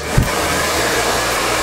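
Hair dryer blowing hair dry, a loud continuous close-up roar with a short bump of handling near the start and no talk.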